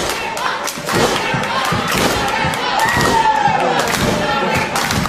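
A capacity crowd of about a thousand at a wrestling show in Rock Grove High School, Franklin, Pennsylvania, a loud continuous roar with repeated thumps and thuds, cheering and some clapping.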